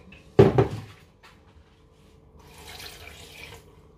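Water from a tap pours briefly into a container of scent leaves being prepared for blending, a short close splash followed by a fainter running trickle.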